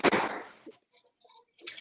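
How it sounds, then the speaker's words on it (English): A door slammed upstairs in a house, one loud sharp bang that rings and fades over about half a second, followed by faint scattered small noises. "My kid slamming the door upstairs."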